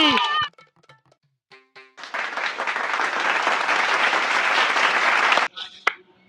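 A game show audience breaks into loud, sustained applause for the winner of a balloon-blowing game, a few seconds of dense clapping after short bursts of voices.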